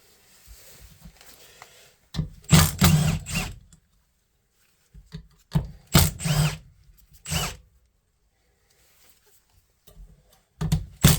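A power tool drives out the small screws holding an alternator casing together, several short whirring bursts separated by pauses, close and fairly loud with quiet workshop handling in between.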